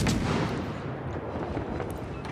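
Warship guns in the naval battle game World of Warships let out a heavy, rumbling boom that decays in a long, dense roar, loud and close with no talking.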